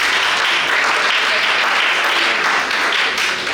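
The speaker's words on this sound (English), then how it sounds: "Please clap for them." An audience at a junior school science and maths quiz claps steadily, with dense, loud, sustained applause throughout and no voices over it.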